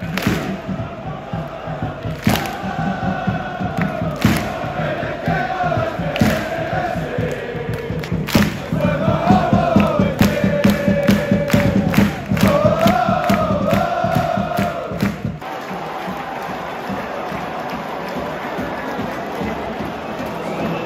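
Football crowd at a Hearts versus RFS match roaring and chanting in a dense, sustained wall of voices, with rhythmic surges and claps before the din thins near the end.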